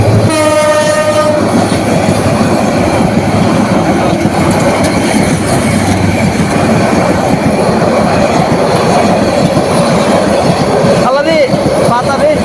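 A train passes close by, wheels clattering and rumbling loudly and continuously, its horn sounding near the start and a squeal of wheels toward the end, with voices mixed in.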